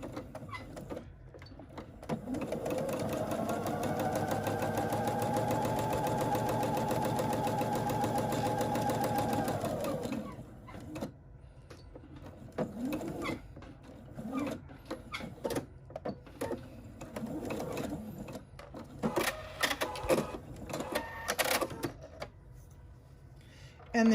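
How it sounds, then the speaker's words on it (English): A sewing machine stitches two fabric pieces for a face mask storage pouch, running steadily for several seconds before stopping, then soft handling noises and brief mechanical clicks follow. "we are simply going to stitch our two fabric pieces using a 1/4 inch seam allowance"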